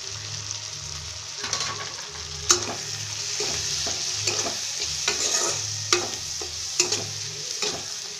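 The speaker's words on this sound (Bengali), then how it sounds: "মশলাটা ভাজা ভাজা হয়ে গেছে" Spices (turmeric, cumin powder and Kashmiri chilli powder) frying in a pan for a Bhola fish curry, with steady sizzling under repeated scraping strokes of a stirring spoon, close and fairly loud.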